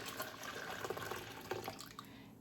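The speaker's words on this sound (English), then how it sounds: "I'm going to take the hot salted whey and pour it right in with my" Hot salted whey poured over fresh homemade mozzarella curds, a steady close liquid splash and trickle that runs for a couple of seconds, then ends in a brief louder burst.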